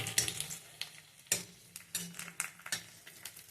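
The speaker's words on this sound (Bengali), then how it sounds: "পাঁপড়গুলো ভেজে নিই।" Papad pieces frying in hot oil in a pan at home, with soft crackling and sizzling broken by repeated scrapes and clinks of a utensil against the pan, close and moderately quiet.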